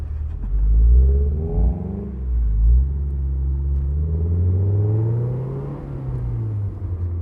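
Honda S2000 engine revving from inside the car, a loud low rumble that swells and falls through repeated revs with a deep, smooth tone and no talking.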